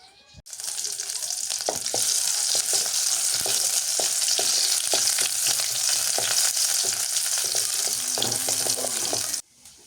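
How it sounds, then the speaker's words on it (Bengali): Garlic and onion frying in hot mustard oil as a tempering for mash kalai dal, a loud, dense, continuous crackling sizzle held close for several seconds, with a few faint clinks, then stopping abruptly. "ডালটা এখন তেলানি করবো তা সরিষার তেল দিয়ে করি রসুন আর পেঁয়াজ দিয়ে তেলানি করবো"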